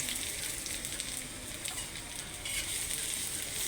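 Dried red chillies fry in oil in a pan with a steady, close, dense sizzle and crackle that carries evenly from start to finish, with no voices.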